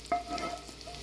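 Crispy zucchini rings frying in oil while being stirred, a soft sizzle with a knock of utensil against pan near the start and faint clinks, close by and without speech.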